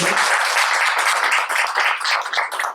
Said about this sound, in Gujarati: એમના માટે એક જોરદાર તાળીઓ છે.